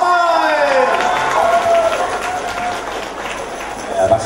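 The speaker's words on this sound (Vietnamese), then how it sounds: "Một lần nữa chúng ta cho một tràng pháo tay." Crowd applause rolls on steadily, a broad wash of clapping with a voice speaking over it at the start.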